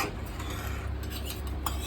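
A spoon scrapes and stirs carrot halwa around a pan in soft, continuous strokes, close and fairly quiet, with faint clinks against the metal.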